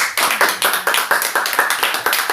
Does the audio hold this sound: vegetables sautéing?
no